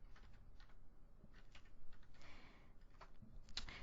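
Keys on a computer keyboard clatter in short irregular bursts, fairly close and moderately loud, with brief pauses between runs of keystrokes.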